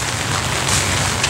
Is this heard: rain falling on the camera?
yes